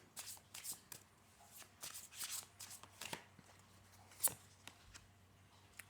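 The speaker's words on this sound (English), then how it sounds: "Okay, I'll shuffle a little bit more." Tarot cards are shuffled by hand in quick, soft riffling bursts and taps, close and quiet, with short pauses between.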